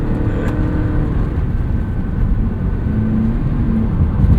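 A 2024 Toyota Prius Prime accelerates hard up a highway entrance ramp, giving a steady, loud hum of engine and road noise from inside the cabin with no talk.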